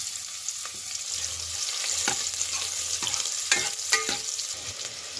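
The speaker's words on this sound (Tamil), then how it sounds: "இப்போது ஒரு வெங்காயத்தை நம்ம போட்டுக்கலாம்." Onion fries in hot oil inside a cooker, giving a continuous close sizzle with several scraping stirs and light clacks spread across it.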